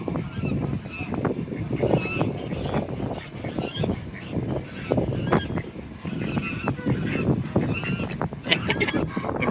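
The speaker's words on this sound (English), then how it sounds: "We got a very mad goose over there." Angry goose at an animal sanctuary honking repeatedly amid a busy farmyard din of other animals and movement, continuous and fairly close, with no clear speech.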